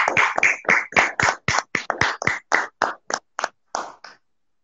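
About fifteen loud hand claps ring out close to the listener in an uneven rhythm, slowing toward the end and then stopping. They sound more like one or two people clapping than a full audience applauding an elderly couple.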